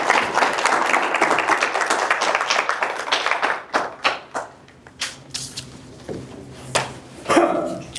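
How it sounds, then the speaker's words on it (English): An audience claps for a speaker at a farm and ranch transition planning talk, the applause loud at first and then thinning into scattered claps and fading, with a few faint voices near the end. "Round of applause for Ashley."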